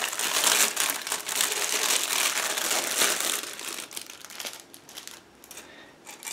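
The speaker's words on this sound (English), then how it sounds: "Just give me a second to open them." Close plastic crinkling and rustling as a bag holding plastic model kit frames is handled and pulled open, loud at first, then quieter scattered crackles.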